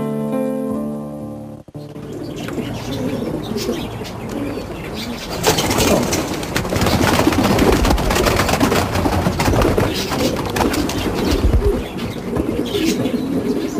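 Pigeons coo and flap at a pigeon breeder's loft in the English countryside, low cooing at first, then a dense burst of wingbeats and rustling with continuous cooing and calls close by.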